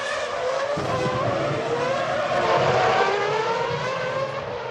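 Formula 1 race cars at speed in a 2004 Grand Prix crash, with Fisichella's car launching off Coulthard's McLaren and flipping over; a loud, continuous engine roar with tire squeal, sustained for several seconds.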